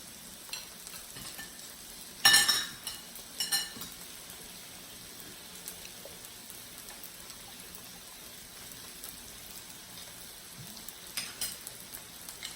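Pork and shrimp on a Thai mookata grill at a family meal at home, a soft continuous sizzle with a couple of louder clattering bursts early on, then quieter crackling throughout without speech.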